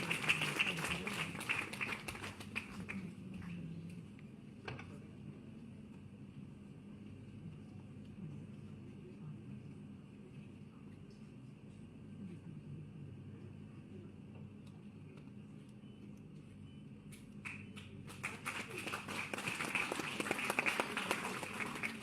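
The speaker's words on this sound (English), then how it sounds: "I think we should have a big round of applause for all of them" Audience applause at an International Day for Women in Maritime event, a broad wash of clapping that swells at the start, fades to a quieter room tone through the middle, then rises again loudly near the end.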